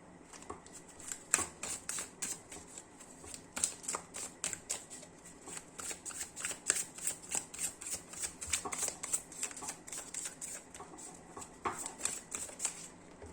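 Tarot cards are shuffled and laid out one by one, giving repeated crisp flicks and soft slaps at close range with a steady rhythm and no voices.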